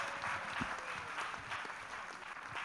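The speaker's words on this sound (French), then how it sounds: "Let us clap for Jesus." Applause from a congregation at a church prayer and intercession service, a steady wash of many hands clapping at moderate distance with no talk over it.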